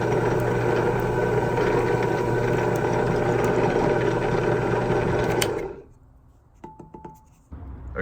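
A lathe spins a homemade cork fishing bobber with a steady, loud motor whir for about five seconds. It then cuts off abruptly into near silence, broken only by a few faint handling clicks.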